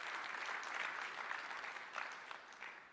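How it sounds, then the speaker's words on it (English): Steady applause from an audience at a business keynote event, a dense wash of clapping that swells and ebbs over three seconds at moderate distance, with no voices standing out. "Can we give George from Malaysia a big round of applause?"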